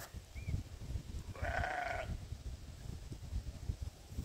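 A sheep gives a single short bleat at mid distance, standing out briefly over outdoor ambience and low rustling noise.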